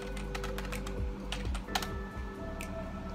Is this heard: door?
no